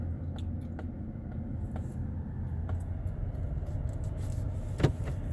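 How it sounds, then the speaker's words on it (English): A car drives along a road through 20 Mule Team Canyon with a steady low engine and road rumble inside the cabin, while a window is lowered, bringing faint ticks and a brief knock near the end. "we're just driving along here and put that window down"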